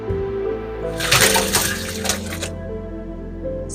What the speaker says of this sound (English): I'll turn off my heat and I will sieve it and run cold water.